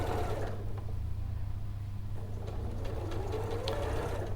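A sewing machine stitches fabric along the side body of a dog coat, a steady continuous mechanical hum running throughout at moderate level with no talk.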